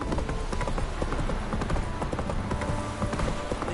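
Rapid clip-clop of a horse galloping in The Witcher 3, a steady drumming of hoofbeats at close range under continuous game ambience, with no voices over it.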